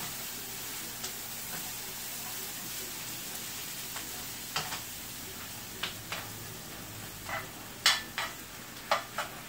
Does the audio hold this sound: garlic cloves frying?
yes